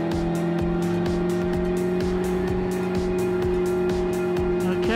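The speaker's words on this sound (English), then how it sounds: "That is a very loud exhaust." Kawasaki H2R motorcycle on a race track, its loud exhaust giving a harsh, steady drone with sustained tonal whine and repeated rhythmic pulses, close and continuous from start to end.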